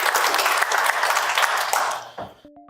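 A crowd applauds people who shared their stories at a support gathering; dense clapping fades out near the end, followed by a brief bright electronic tone.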